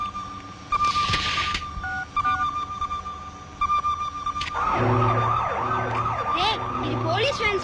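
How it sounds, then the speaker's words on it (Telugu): A fire engine siren sounds in a movie scene. Scattered tones and beeps come first, then a loud, rapidly sweeping electronic wail repeats over a low drone, with voices around it. "కాదు, ఫైర్ ఇంజిన్ సౌండ్."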